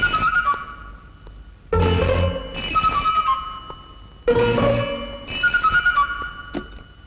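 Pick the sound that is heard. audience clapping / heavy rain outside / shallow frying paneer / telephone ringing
telephone ringing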